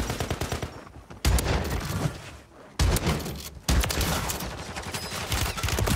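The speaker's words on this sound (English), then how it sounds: "And this is a ground loot shotgun." Bursts of shotgun fire in the video game Warzone, loud and close, with several heavy blasts and rapid shots coming in separate clusters with short gaps between them.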